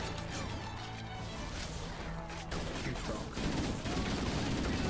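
Pistol fire in Halo CE rattles out amid a loud, cluttered battle din, with sharp shot cracks layered over continuous combat noise and crashes.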